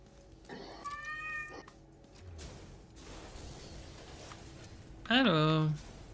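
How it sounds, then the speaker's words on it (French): A cat meows indoors: a short wavering call early on, then a loud, close, drawn-out meow near the end, with a person speaking in between. "Qu'est-ce qu'il y a le chat ?"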